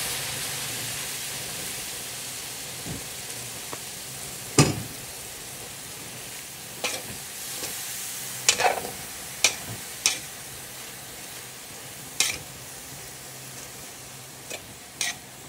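Pansit stir-fries with cabbage and soy sauce under a soft, continuous sizzle, broken by irregular scrapes and clacks of the utensil against the pan. The sound is close and unaccompanied by talk.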